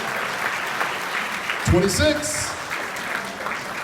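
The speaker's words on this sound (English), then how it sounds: "Big round of applause for Asian Americans" An audience at an awards event honoring influential Asian Americans applauds with a steady wash of clapping, while someone briefly speaks over it midway.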